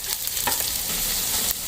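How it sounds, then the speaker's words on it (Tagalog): Onion and garlic sautéing in a pan for a vegetable dish, a steady close sizzle with a brief scrape of stirring partway through, no talking. "Igisa na ng sibuyas at bawang."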